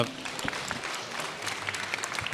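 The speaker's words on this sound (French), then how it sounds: "On peut les accueillir en les applaudissant." Audience applause welcoming a rescue team at a road-rescue challenge during a rescue expo, a steady wash of moderately loud clapping with scattered sharper claps, a faint voice or two underneath.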